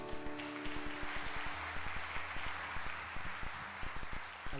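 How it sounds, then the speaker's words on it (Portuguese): Rhythmic clapping from a congregation during a church worship service, steady even beats over a dense wash of crowd noise, fairly distant and sustained. "Uma salva de palmas para Jesus"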